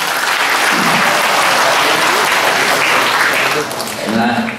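An indoor audience at a civic talk breaks into sustained loud applause, a dense wash of many hands clapping that stays steady for several seconds before tapering slightly at the end.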